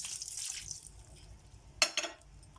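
A short splash of a quarter cup of water poured into a pan of onions and spices while cooking crab, a couple of quick liquid bursts over a quiet background hiss.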